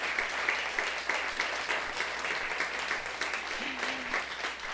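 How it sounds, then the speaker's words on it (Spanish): Sustained audience applause fills a lecture hall after a Spanish-language neuroscience talk, a dense, steady patter of many hands clapping at moderate loudness for several seconds, with a brief voice rising faintly underneath. "yo creo que esto se merece un aplauso"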